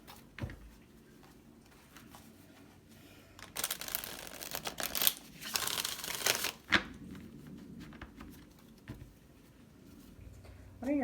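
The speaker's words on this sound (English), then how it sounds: "I'll do one more shuffle." Quiet room tone broken by a burst of riffling and flapping as a deck of cards is shuffled, with a few soft taps before and after.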